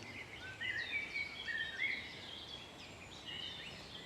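A robin sings in open countryside, with brief high twittering phrases, faint and distant, over a steady outdoor background hiss.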